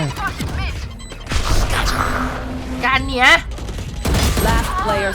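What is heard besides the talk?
gunfire in a video game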